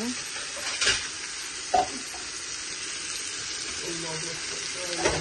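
Potatoes tipped into a pan of frying onions, giving a steady crackling sizzle with a few clinks and stirring scrapes, close and moderately loud.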